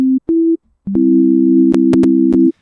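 Pure electronic test tones sound in short steady bursts, first single tones, then two tones together for over a second, producing combination tones, punctuated by a few sharp clicks.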